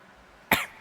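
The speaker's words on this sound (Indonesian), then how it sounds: "Batuk." A single sharp cough bursts out abruptly after a quiet moment during a religious talk, loud and close, then fades quickly.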